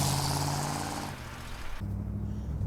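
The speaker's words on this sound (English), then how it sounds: "All right, let's take the 57 Chevy for a ride." A 1957 Chevrolet Bel Air out on the road, its engine a steady low rumble with broadband road and wind noise that shifts partway through as it changes speed, close and alone without talk.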